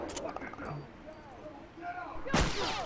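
Gunfire in The Last of Us Factions multiplayer match, with a loud close shot burst near the end over earlier fainter distant shots, while players talk over it.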